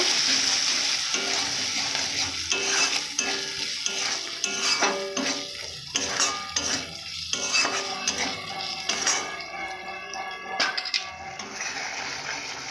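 Spice masala with turmeric and chili powder stirred in a pan for a meat dish, with a utensil scraping and clinking against the metal in steady irregular strokes, close and moderately loud, no voices.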